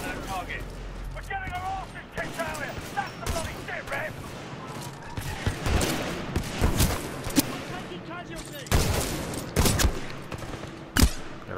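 The Mastiff shotgun in the video game Titanfall 2 fires in a rapid string of heavy, booming blasts layered with other loud in-game combat noise, close and continuous throughout.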